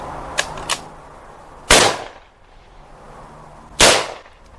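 Three sharp rifle shots from a .243 and a 6.5 Grendel fire at about 50 yards in a penetration test, two lighter cracks close together followed by two loud, booming reports spaced about two seconds apart, each trailing off in echo.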